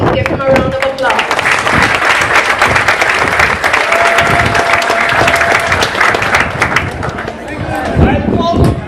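A Saba Day ceremony crowd claps for an honoree in a continuous, fairly loud round of applause, with voices and some tonal sounds mixed in beneath it.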